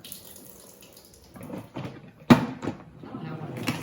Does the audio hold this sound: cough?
no